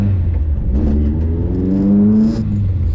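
A VW Scirocco MK2 with an ABF engine and freshly rebuilt carburettor revs up and settles, its steady idle rising into a throaty climb; the loud, close engine note runs continuously without speech.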